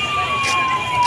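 An ambulance siren sounds a loud, sustained electronic tone close by, sliding slightly in pitch over a background of ambient street noise.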